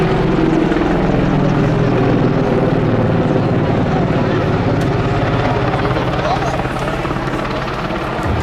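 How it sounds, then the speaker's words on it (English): An AH-64 Apache attack helicopter from JBLM roars close overhead at a demonstration, its loud, throbbing rotor beat and turbine whine sustained throughout, with a voice talking faintly beneath. "Welcome, the AH-64 helicopter, the attack helicopter from"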